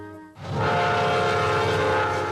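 A Southern Railroad train sounds its horn near Sugar Hill and Beaufort, a loud sustained chord that starts abruptly and holds steady throughout, close and alone.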